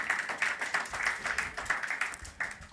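Audience clapping in a hall, a quiet, somewhat distant patter of rhythmic claps in a regular pulse, sounding like a smallish crowd clapping together, with no clear speech over it.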